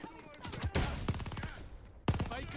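Bursts of MG 42 machine gun fire in the Call of Duty Vanguard beta, rapid shots under game voice callouts, with a sharp heavy burst near the end.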